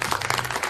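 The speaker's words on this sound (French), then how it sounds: "Je crois qu'on peut tous l'applaudir" Brief burst of applause from a small group at a table, several hands clapping together loudly and close for under a second.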